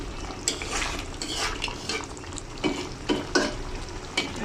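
Potatoes in a pan with pangas fish curry sizzle softly while a utensil stirs and scrapes the pan in irregular clinks and knocks, close by and moderately quiet.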